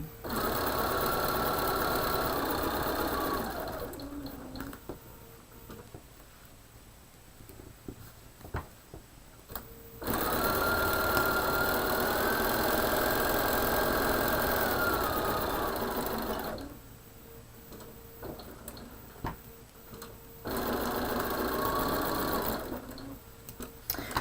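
A sewing machine stitches a fabric cushion for holding clips and pins in two long, loud, steady whirring runs separated by quieter pauses with small handling noises, with no talk.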